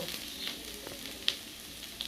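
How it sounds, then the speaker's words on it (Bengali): Vegetables with green chilli are stirred as they fry in a pan for a Malabar spinach and prawn dish. A faint, even sizzle runs throughout, broken by a few light scraping clicks, with no speech. "এখন দেখো আমি একটু নেড়ে নেবো।"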